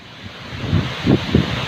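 Khun Korn waterfall in Thailand, its water and waves making a steady, close broadband rush with wind buffeting the microphone and a few louder surges near the end.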